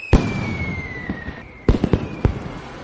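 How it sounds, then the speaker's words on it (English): Fireworks go off outdoors: a falling whistle, then a quick burst of sharp bangs and crackling pops, loud and fairly close, with no one speaking. "Watch the fireworks."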